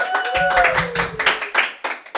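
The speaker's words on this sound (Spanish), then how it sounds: "Parimatch, fuerte aplauso, por favor" A studio audience on a comedy talk show claps in uneven bursts, with a low hum and a sliding tone in the first half, then the clapping thins into separate claps.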